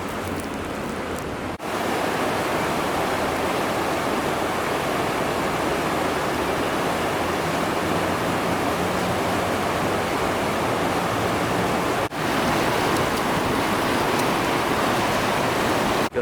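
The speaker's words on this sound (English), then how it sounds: "Here's one of the rivers on the west side of town." The Rio Tomebamba in Cuenca, Ecuador, flows with a steady, close, broadband rush of water that continues unbroken, apart from two brief cuts.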